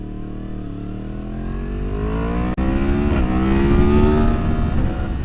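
A 2023 Yamaha MT-10 with a Leo Vince decat exhaust and a Moore Mafia flash revs up close and loud, its engine note climbing steadily through one long pull with a brief cut midway, and no talk over it.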